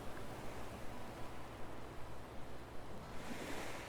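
Ocean waves wash onto the beach in the Animal Crossing New Horizons video game, a soft continuous surf hiss with gentle rhythmic swells, heard alone.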